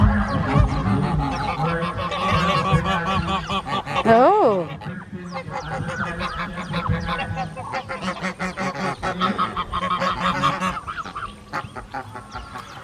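Ducks on an artificial pool at a farm honk and quack repeatedly, loud and close, with a brief spoken exclamation among the calls.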